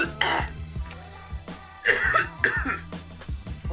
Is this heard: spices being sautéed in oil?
no